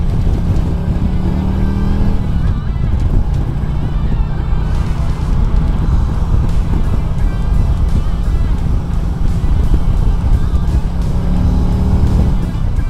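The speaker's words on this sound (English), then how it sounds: "you're on board with me on my first ride on the Street Glide" A 2018 Harley-Davidson Street Glide with its 107 engine cruises on a motorway, giving a loud continuous rumbling drone mixed with heavy wind roar, recorded from on board.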